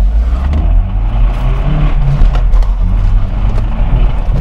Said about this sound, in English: the engine has warmed up, I think, probably enough now for me to engage VTEC